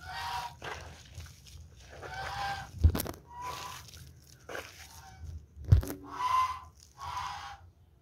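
Geese and jumbo Muscovy ducks honk and call while being given feed, with repeated nasal honks near and far and a couple of sharp knocks, at moderate loudness.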